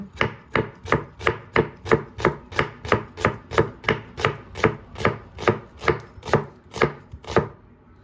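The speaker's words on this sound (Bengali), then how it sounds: "এই একদম কুচি কুচি করে কাটতে হবে" A knife finely chopping vegetables for a mashed bhorta dish on a board, with steady, evenly spaced chops, about two per second, loud and close, no voices.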